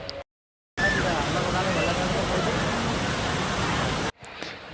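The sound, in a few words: waterfall at Chooral, Kannur, Kerala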